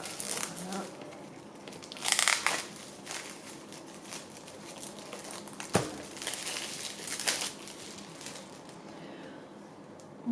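Paper wrapping on a boxed oracle deck of 54 cards crinkles and tears in bursts as it is pulled off, close and fairly quiet, with a sharp snap midway and soft speech around it.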